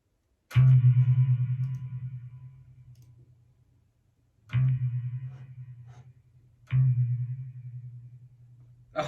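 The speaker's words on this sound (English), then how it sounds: "Where's that reverb coming from?" Bass guitar notes run through an effects pedal adding reverb, three separate low plucked notes, each ringing out and slowly decaying with a washy tail, with no voices.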